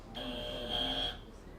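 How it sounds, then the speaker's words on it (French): A quiz game buzzer at a school competition sounds one sustained electronic tone of about a second, close and fairly loud, then cuts off into quiet room noise. "Gardez la main sur le buzzer pour avoir un temps d'avance"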